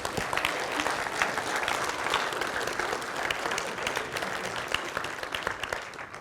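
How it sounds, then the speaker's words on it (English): Sustained audience applause in a large conference hall as a speaker takes the stage at a programming conference, dense steady clapping filling the room with no speech over it. "Big round of applause."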